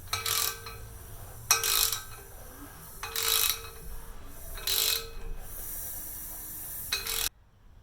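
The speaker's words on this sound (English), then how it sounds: "Let's flip the ratchet the other way and go back the other direction." A hand ratchet turns an engine camshaft during degreeing in a series of four or five short, close rasping bursts separated by brief pauses, ending in quiet.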